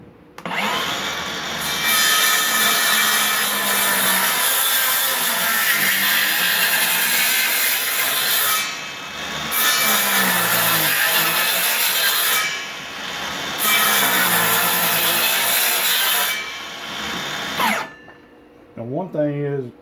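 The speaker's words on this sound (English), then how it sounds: "you might want to ride your saw back and forth to clean it out." A power saw cuts wood for a raised garden bed, riding back and forth in repeated loud, close passes, with the motor running steadily in four long bursts separated by brief pauses and a rattle at the end.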